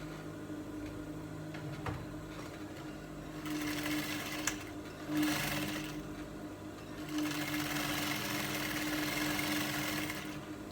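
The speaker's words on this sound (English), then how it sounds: "This is how I'm going to sew it." A sewing machine stitches a fabric belt for wrap palazzo trousers, running in a few steady whirring bursts of a few seconds each, separated by short pauses, close and fairly quiet.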